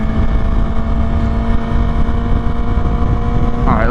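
A 2023 Kawasaki ZX-6R 636 sport motorcycle engine heard while riding, with a steady loud drone under wind noise and a brief rise in pitch near the end as the rider downshifts.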